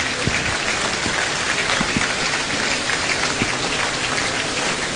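Dense, sustained applause from a ceremony audience in Senegal, a continuous even crackle of many clapping hands with no voices over it.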